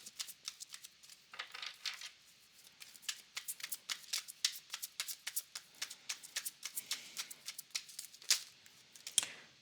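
A deck of tarot cards is shuffled by hand in a quiet room, a rapid run of crisp riffling flicks and taps in uneven bursts, close to the microphone.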